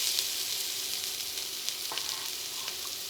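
Chopped vegetables, including green peppers, sizzle steadily in a tablespoon or two of olive oil in a pan, a continuous close hiss with faint crackles and occasional stirring scrapes.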